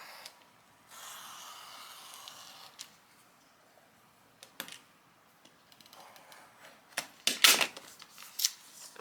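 Scissors cutting fabric laid over glitter vinyl, with a few sharp close snips and rustling of material, quiet stretches between the bursts of cutting.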